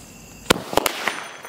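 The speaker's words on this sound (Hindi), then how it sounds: "जलाते हैं इस वाले टू साउंड को, देखते हैं किस तरीके से जलता है ये" A two-sound Diwali firecracker going off outdoors, a sharp loud bang followed quickly by a pair of close cracks and a fainter pop, all within about a second.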